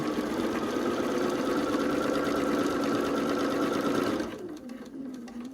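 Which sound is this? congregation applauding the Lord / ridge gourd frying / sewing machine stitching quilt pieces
sewing machine stitching quilt pieces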